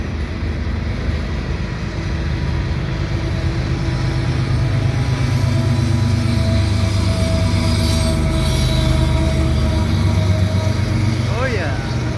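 A CN mixed freight train rolls past in winter, with loud continuous rumble and sustained high-pitched wheel squeal rising over it, close by throughout.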